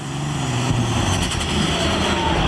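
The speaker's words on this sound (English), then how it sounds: "650 cubic inch limit. Listen to this engine." A pulling tractor with a 650 cubic inch limit engine roars loudly and steadily at a truck and tractor pull in Wisner, Nebraska, a dense, sustained mechanical drone throughout.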